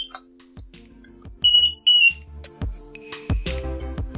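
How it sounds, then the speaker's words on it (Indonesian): An Arduino buzzer in a flood-detector build gives two short, shrill beeps, close and loud, among clicks and clattering handling noise. "saya akan aktifkan bunyi dari beep ini"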